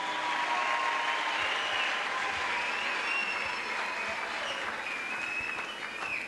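A church congregation at a crusade gathering applauds in praise, a broad and continuous wash of clapping that stays steady throughout, moderately distant and without speech over it.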